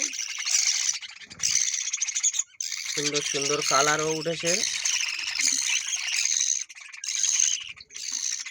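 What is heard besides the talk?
budgerigar chicks and parents calling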